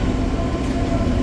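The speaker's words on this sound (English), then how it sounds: "There's a metro train." A Newcastle Metro train rumbles past close by, a loud, steady low roar with a dense mechanical hiss across the whole moment.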